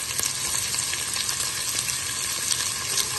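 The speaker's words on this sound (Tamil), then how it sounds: "இதை நல்லா ஃப்ரை பண்ணிகிட்டே இருக்கணும்" Onions frying in oil for mushroom biryani give a steady, close crackling sizzle that runs unbroken and fairly loud, with faint stirring scrapes now and then and no talking.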